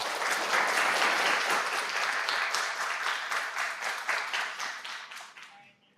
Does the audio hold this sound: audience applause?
yes